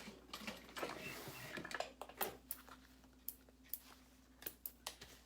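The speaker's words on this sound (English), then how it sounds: "We're gonna back stitch again to reinforce that slip pocket." A sewing machine back stitching on a crossbody bag gives quiet, low mechanical clicks and short whirring bursts, slowing into evenly spaced single clicks over a faint steady hum.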